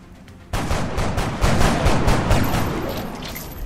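Gunfire in the video game XCOM: Enemy Within erupts suddenly after a quiet moment, a dense rapid burst of shots followed by heavy booming impacts, loud and close with no talk.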